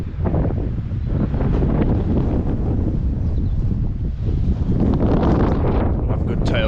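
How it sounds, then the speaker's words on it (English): Continuous loud wind buffeting the microphone while cycling on a cold, windy ride, a steady rumbling roar with gusty surges throughout. "It's cold, it's chilly in the wind"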